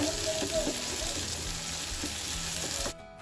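Water is poured into a palak spinach chutney as it is being mixed, giving a steady, close, hissing gush that cuts off abruptly at the end.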